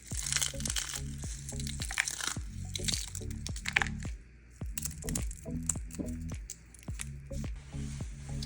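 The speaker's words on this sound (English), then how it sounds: "So now we're gonna just like crunch up Doritos into the thing." Doritos tortilla chips crushed by hand into a pot of taco soup in a home kitchen, making loud, repeated crunching and crinkling bursts in a steady rhythm close to the microphone, with no talking.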